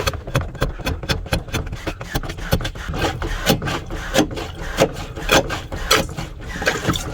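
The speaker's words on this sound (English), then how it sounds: "So takes a few pumps to get going" A hand pump on a camper sink in a 1984 Ford F-150 truck camper is worked in repeated squeaky, rubbing strokes, close and rhythmic, each stroke a short scrape.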